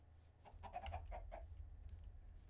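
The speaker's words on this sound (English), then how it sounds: "Plenty of chickens." A short series of soft Minecraft chicken clucks, about five quick notes in a row, faint over a low background hum.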